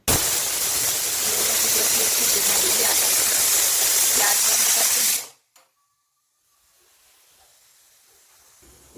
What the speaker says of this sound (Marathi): आता एक शिट्टी होऊ देते